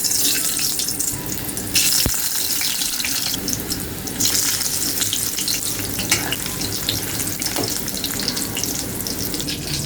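Potatoes frying in hot oil in a kadhai in a home kitchen, a steady close sizzle and crackle running throughout with occasional clatter and stirring, no voices.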